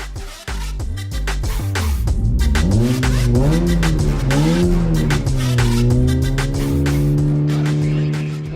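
A tuned Honda Jazz GK drag car with a CVT gearbox and aftermarket engine management revs hard, the engine note rising and falling through several sweeping pulls, loud and close, with a sharp opening blip and no talking.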